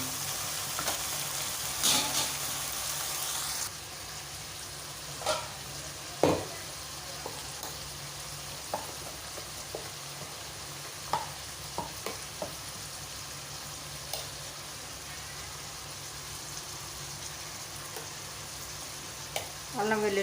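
Curry base for chicken biryani frying in a pan, a soft, steady low sizzle heard from a short distance with occasional faint clicks and taps of a utensil.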